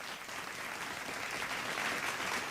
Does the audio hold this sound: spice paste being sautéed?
no